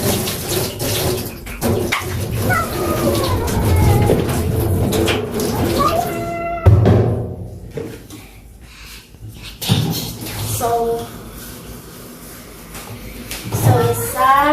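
Rice-washing water poured out of a digital rice cooker's inner pot into a sink, an irregular splashing and trickling stream with light clatter of the pot, broken by pauses; a voice talks at times.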